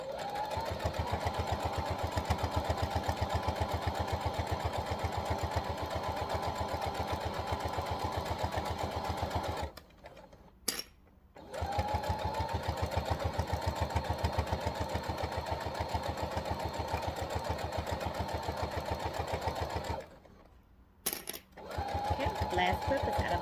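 A sewing machine stitches a fabric key fob in long, steady mechanical runs of rapid whirring, stopping twice for brief pauses before starting again, close and loud.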